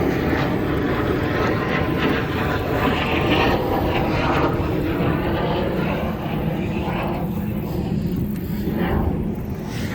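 Steady broadband roar of jet aircraft passing overhead, loud and continuous with a slowly shifting pitch, an airfield setting with no talking.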